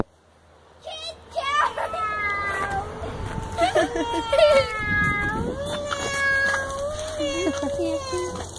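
A cat meows repeatedly in drawn-out, rising cries, close by, mixed with a voice and other chatter around it.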